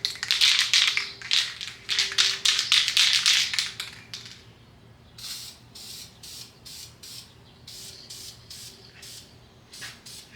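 Repeated short hissing bursts of an aerosol spray can, dense at first then spaced out, close by with a faint hum underneath.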